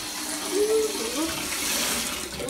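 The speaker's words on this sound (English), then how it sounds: "I have to turn off the bath water" Bath water running from a tap, a soft steady rush of flowing water heard indoors, with a voice briefly audible under it.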